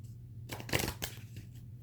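Small tarot deck of about 26 cards being shuffled by hand, a brief quiet flurry of riffling card flutters rising to a louder burst in the middle, then tapering off.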